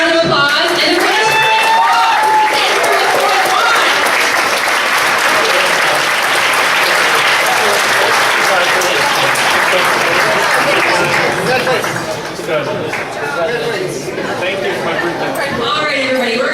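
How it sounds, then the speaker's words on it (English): A room of attendees at the LiveWorkPlay Engines of Success 2013 event gives themselves a big round of applause. The clapping is loud, steady and close, lasts the whole stretch with a faint crowd murmur, and tapers slightly near the end. "you need to give yourselves a big round of applause"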